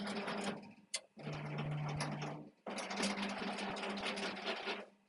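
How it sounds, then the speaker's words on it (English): The autofocus mechanism of a CO2 laser cutter drives its motors in two bursts of close, steady buzzing whir, with a short pause between and a faint click near the start. "I'm going to go over to the controller and hit the autofocus"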